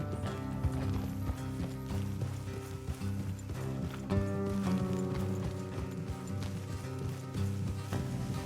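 Horses gallop along a road in the video game Red Dead Redemption 2, a steady clip-clop of hooves under an orchestral music bed, with no talk.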